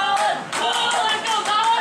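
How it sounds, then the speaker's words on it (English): Crowd at a Fusion Wrestling event clapping in rhythmic bursts inside an indoor building, short steady claps under a commentator's voice. "We've got a great crowd assembled here tonight"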